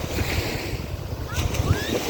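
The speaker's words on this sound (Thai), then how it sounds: "ดูสิ คลื่นแบบสนุกแบบคลื่นมากๆ" Sea waves surge onto the beach at Khao Tao, a steady broadband wash of surf with wind buffeting the microphone, continuous and fairly close throughout.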